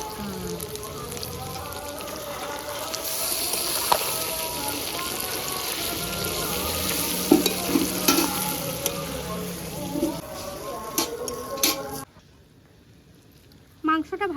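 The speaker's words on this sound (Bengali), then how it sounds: "ভালোভাবে কষানো হয়ে গেছে" Food stir-fried in oil for a picnic curry, a steady dense sizzle with scraping stirs and occasional clinks, fairly close, continuing for most of the time before dropping away near the end, with faint talk in the background.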